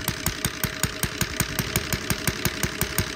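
An NGH GF-38 model aircraft engine runs steadily with a rapid, even knocking rhythm, loud and close, with no voices.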